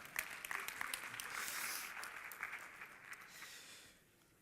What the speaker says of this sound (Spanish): Eso es, un fuerte aplauso.